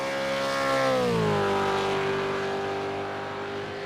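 A V8 Supercars race car engine in a sim racing game at COTA whines loudly up close, its pitch sliding down as it slows and then holding a steady drone, with no talking.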